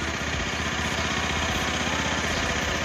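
A Bajaj Pulsar 180 motorcycle engine runs steadily just after a block and piston change, a close, even, loud mechanical drone with a fast regular pulse and no pauses.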